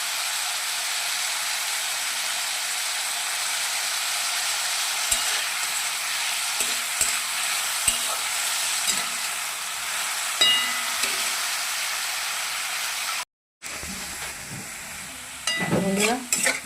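Potatoes sizzle steadily as they fry in a pan, with clinking scrapes of a spatula stirring them at intervals; a brief cut of silence, then louder stirring and sizzling resume near the end.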